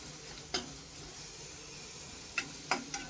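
Ground masala of coriander powder and turmeric sautéing in a pan, a soft, low hiss with a few brief scrapes of a spoon, faint and close, no voices.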